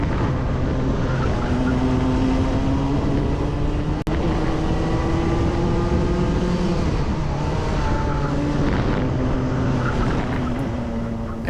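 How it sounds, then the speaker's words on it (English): A Club100 racing kart engine at Lydd drones loud and close through a race lap, its pitch dipping and sagging as it bogs down, then recovering, with brief rises and falls but no clear talk. "Engine sounds like it bogged down quite a lot there."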